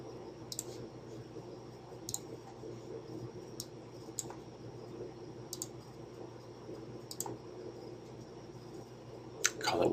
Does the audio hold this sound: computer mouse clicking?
yes